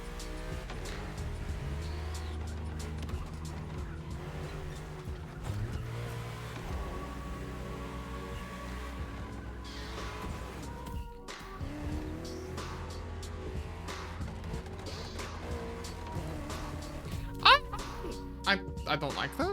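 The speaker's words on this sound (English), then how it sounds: "Slightly easier to tell the engine noise from this camera." Car engines at a motor festival, a continuous loud engine drone with revving swells, a passing roar and a brief sharp tire squeal near the end, with people talking over it.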